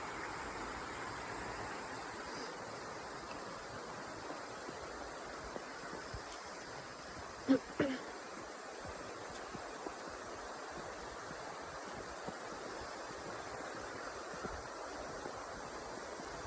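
A creek flows steadily along a river walk, a continuous broadband wash of moving water that stays even and moderately quiet throughout, with a brief louder knock or thump partway through.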